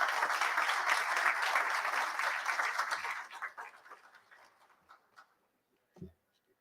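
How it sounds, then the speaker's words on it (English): Audience applause at a new members and high achievers ceremony, a dense wash of many hands clapping that fades out after about three seconds into scattered claps and near silence, then one soft bump. "So a round of applause for yourself."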